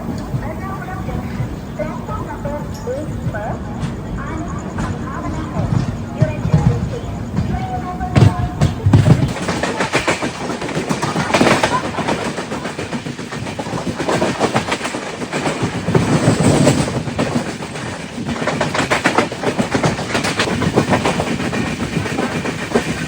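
Aboard the 16316 Thiruvananthapuram North–Mysuru Express pulling out of Ernakulam Junction, a steady rumble of rolling coaches is punctuated by rhythmic clickety-clack over rail joints, loud and close, with voices talking over it.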